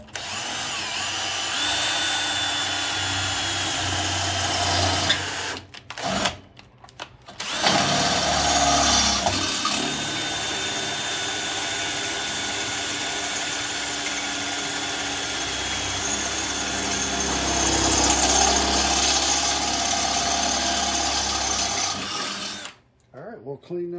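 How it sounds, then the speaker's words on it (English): Power drill boring holes into a Duromax XP13000EH generator during a gasoline-to-propane conversion, a long steady whirring drone with brief pauses, loud and close, with someone speaking at times. "now that we got our holes all drilled out"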